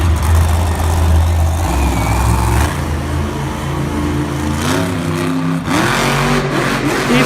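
The Gravedigger monster truck's engine revs loud and close at a Monster Jam show in Raleigh, deep rumbling throttle blips rising and falling with popping bursts, the roar filling the arena without any talk.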